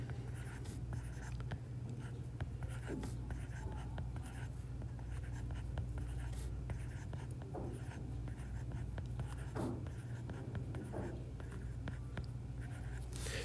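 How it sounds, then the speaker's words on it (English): Steady scratchy pen or pencil strokes while numbers are written out by hand, continuous and close over a low background hum, with no talk. "So we would write that all the way down"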